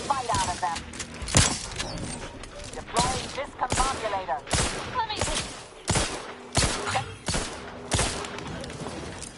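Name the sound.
gunfire in the video game The Outer Worlds 2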